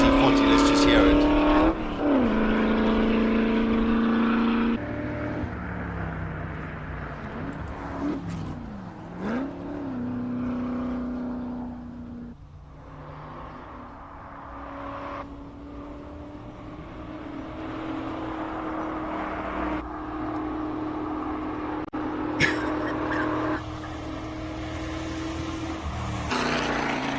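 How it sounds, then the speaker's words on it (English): A classic Ford GT40 race car at a hill climb, its engine revving and rising through the gears with pitch dips at changes, loud at first then fading into the distance, with commentary voices over it. "Beautiful GT40. Let's just hear it."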